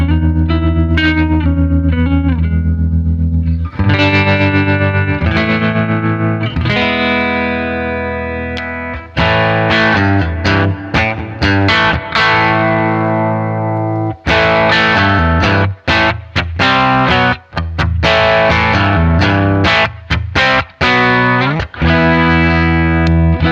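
Guitar through a vintage combo amp turned up to full volume on the second input, loud and mildly overdriven, with sustained chords that give way to busy strummed and picked passages.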